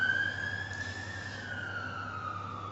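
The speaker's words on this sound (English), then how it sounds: "I hope you can hear the sirens." A distant siren wails steadily with a slowly falling pitch over a low constant hum.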